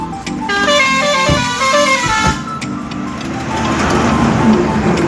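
A vehicle on the road sounds a long steady horn blast over continuous traffic noise, then passes by with a rising engine rumble and road roar toward the end.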